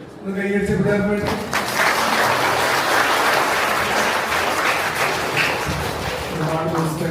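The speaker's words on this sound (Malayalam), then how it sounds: "എല്ലാവരും ഒന്നുകൂടെ ഒന്ന് കൈയടിച്ച് വിടാൻ വേണ്ടി" An audience at a St Alphonsa feast day 2025 program breaks into dense, sustained clapping that holds steady and loud for several seconds after a brief spoken line at the start.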